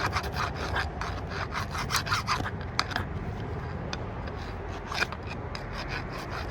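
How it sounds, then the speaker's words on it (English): A metal file rasps along the sharp, torn edges of copper transformer metal in quick repeated strokes, a gritty scraping rhythm heard up close with no speech. "you can either do that with a file, clean those edges up"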